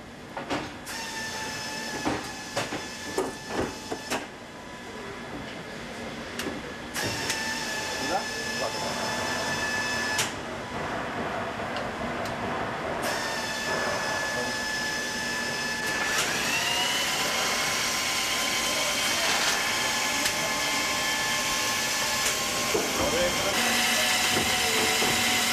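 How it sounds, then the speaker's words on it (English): A fully automatic resistance seam welding machine runs continuously along the strake of a membrane tank, giving a steady mechanical whine and buzz with tonal hum and intermittent clicks and clunks, loud and close, with no voices. "The tightness welding is then carried out by fully automatic resistance seam welding."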